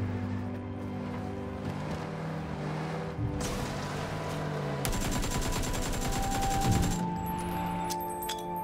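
Gunfire in the battle royale game PUBG: rapid bursts of automatic fire, loud and close, with a dense fusillade near the middle, over a low engine rumble and no talk.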